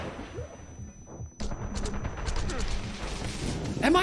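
Grenade blasts in the action video game Wanted: Dead, a dense run of heavy booming bursts and crackling impacts that keep going over a continuous roar of game audio, with loud chaotic effects throughout.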